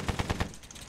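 A short burst of machine gun fire in the Battlefield 1 first-person shooter, four rapid evenly spaced shots in under half a second, fairly close, then a brief fading echo.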